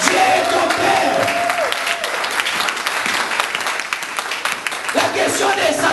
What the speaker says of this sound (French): Je croyais qu'on allait donner une bonne acclamation.